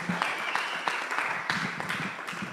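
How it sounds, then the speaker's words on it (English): Scattered applause from a small audience at a venture capital LP forum panel, a steady patter of claps with a few louder individual claps, moderately distant. "Let's give them a big round of applause."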